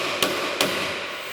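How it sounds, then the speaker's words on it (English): Two sharp, ringing strikes of a brass hammer on a steel Beverly B2 throatless shear being restored. The blows are loud and close, a fraction of a second apart, each followed by a brief metallic decay. "And again, with the brass hammer,"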